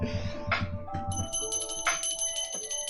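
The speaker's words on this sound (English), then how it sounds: "This is my Love Vibe Tribe bell." A hand bell rings out several times, bright sustained metallic tones with long decaying overtones, close and fairly loud, struck in a couple of bursts with some low background rumble underneath.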